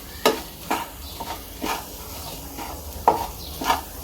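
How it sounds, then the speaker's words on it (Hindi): Boiled potatoes are mashed and stirred in a pan. Soft, irregular scraping and thumping strokes repeat close by and fairly quietly, with no talking. "आलू को हम इसी तरह मैश करके लेते हैं और इसे चलाते हुए मैश कर लेंगे।"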